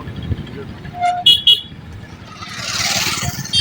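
Busy road traffic in Jhenaidah, Bangladesh, with vehicles rumbling past close by, several short horn toots in quick succession, and a louder passing whoosh toward the end; a voice talks over the noise.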